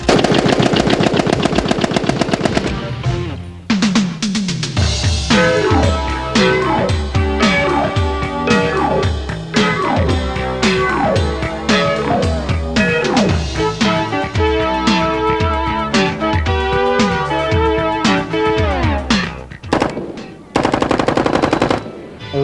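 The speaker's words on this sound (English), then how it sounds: "the Browning automatic rifle has proven to be a reliable machine gun" A Browning automatic rifle fires on full auto in long, loud bursts of rapid shots, sharp cracks close by with brief pauses between strings and a final short burst after a gap near the end.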